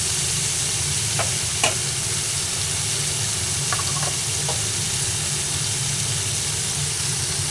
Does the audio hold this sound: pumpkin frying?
yes